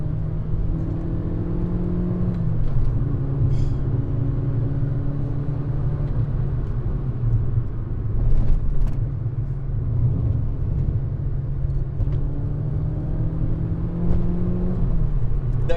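A Peugeot 106 Rallye hatchback's engine revs up from about 3,000 rpm while driving, giving a loud, steady whirring drone with rising pitch sweeps that climb, drop and climb again, heard from inside the car.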